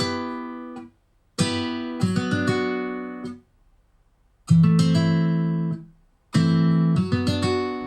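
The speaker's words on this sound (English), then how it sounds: "so that the chord progression sounds like this" A 2000s R&B type beat chord progression plays on a synth or keys, sustained chords with an added chord on the fourth beat, arriving in separate phrases with short silent gaps between them, clear and without voices.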